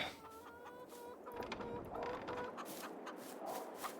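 Chickens cluck in a farming simulator video game, a few short repeated clucks at moderate distance over a faint steady background hum, with no talk.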